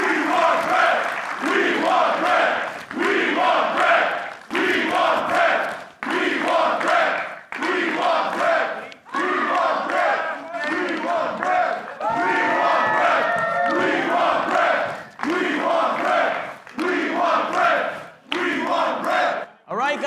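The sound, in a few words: crowd cheering before wrestler's entrance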